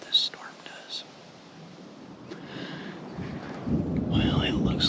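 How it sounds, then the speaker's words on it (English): Low rumbling thunder from a storm passing near a Colorado mule deer hunting spot builds over the last two seconds, faint and distant at first, with soft whispering voices and small sounds over it. "You can hear the thunder in the background."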